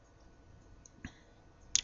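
Computer mouse clicks while working in Logopress3 unbending software: one soft click near the middle and a sharper, louder click near the end, each brief and isolated over quiet room tone.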